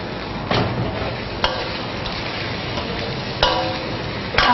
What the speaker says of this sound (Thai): การผัดน้ำพริกแกงนี่ก็จะต้องผัดให้หอมนะคะ